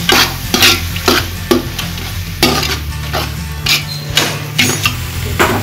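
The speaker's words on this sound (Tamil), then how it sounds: "இஞ்சி பூண்டு பேஸ்டையும் போட்டு நல்லா வதக்கிடுங்க" Ginger garlic paste for chicken biryani sizzles loudly in a pan while a spoon scrapes and knocks against the metal in repeated, regular strokes, close up and without talk.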